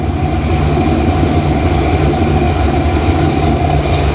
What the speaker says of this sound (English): let's let it idle